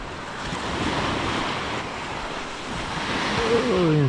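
Steady surf breaking on a beach, a continuous loud wash of waves with wind noise over the microphone throughout, no voices.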